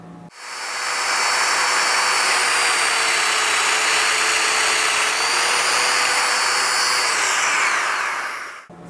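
A Domino joiner plunges a mortise into a wooden rail of a chest of drawers, producing one loud, continuous high-pitched whine from the power tool at close range that lasts about eight seconds and then cuts off.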